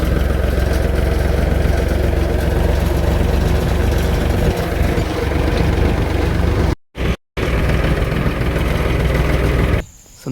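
A farm tractor's engine runs steadily at idle nearby, a continuous loud low rumble with two brief dropouts near the end and no talking.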